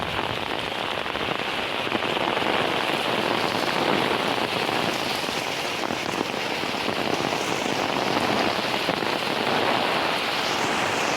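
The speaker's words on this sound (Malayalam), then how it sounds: "അങ്ങനെ മഴ പയ്യെ ആയിട്ട് കുറയുന്നുണ്ട്." Rain pouring steadily over a paddy field under a dark sky in strong wind, a dense, even, continuous patter without any voices.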